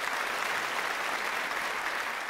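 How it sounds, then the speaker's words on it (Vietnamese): Sustained studio audience applause on a Vietnamese game show, a dense, even clapping wash of a large crowd, loud and continuous for the whole stretch with no distinct voices. "Chúng ta dành một tràng pháo tay thật lớn để chúc mừng đội Lúa Thơm Vũng Liêm."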